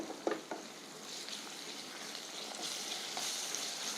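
Fish masala sizzles and fries steadily in a pan while being stirred, with a couple of soft utensil knocks near the start and a continuous close crackle throughout, no talking.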